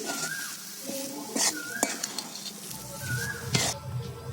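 Vegetable chop mixture with coriander leaves being stirred in a pan, soft scraping and clinks of a spoon against metal mixed with a light sizzle, as a voice talks intermittently.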